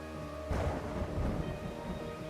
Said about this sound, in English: a thunderstorm, lightning flashing, not a soul around